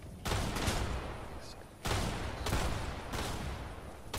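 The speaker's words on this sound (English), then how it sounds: "The gunshots are coming over here." Video game gunfire in a shooter match, dense bursts of rapid automatic shots arriving in long sustained volleys with short gaps between them.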